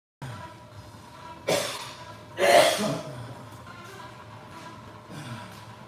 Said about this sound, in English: there's probably going to be a lot of coughing in this video